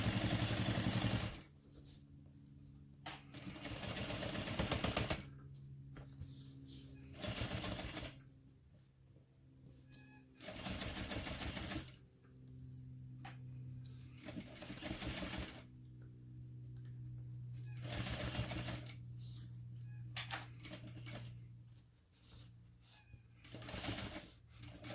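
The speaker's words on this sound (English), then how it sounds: "I find that's the easiest way to sew around curves." A sewing machine stitches around the curves of a bag in bursts of steady, rapid needle clatter, stopping and restarting several times with quiet pauses between runs.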